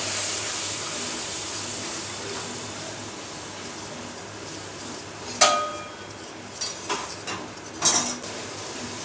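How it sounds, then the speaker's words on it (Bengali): A spice paste of cumin, turmeric and chili powder cooks with a little water in a pan for a Bengali ritha fish bhuna, a soft steady hiss broken by several metal spoon clinks and scrapes against the pan. "সামান্য জল দিয়ে মশলাটা কষিয়ে নেব"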